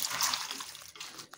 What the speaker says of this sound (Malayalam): നമുക്ക് വെള്ളം ഒഴിച്ച് ഇത് വേവിക്കണം.